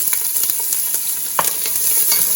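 Chopped onion fries in hot olive oil in a pan, giving a loud, continuous sizzle with sharp crackles and light stirring scrapes throughout.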